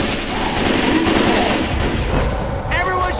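Gunfire aimed at the Tank in the video game Left 4 Dead 2 during a Versus match at the Dark Carnival concert, a dense, continuous crackle of shots running throughout under game noise and voices.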